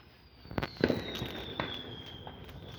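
Guy Fawkes night fireworks in New Zealand pop and crackle at a distance, several sharp bursts in quick succession with a whistling rocket trail gliding underneath, no talk.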